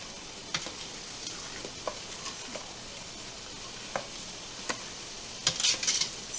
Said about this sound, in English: So get it all good and stirred in. Stirring frequently, again, so it doesn't burn.